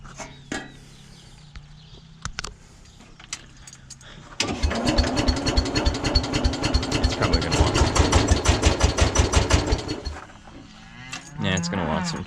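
A 107 engine, fuelled up and needing choke, cranks and catches at about four seconds, then runs with a loud, rapid, steady firing rhythm for around six seconds before cutting off; a voice speaks briefly before and after.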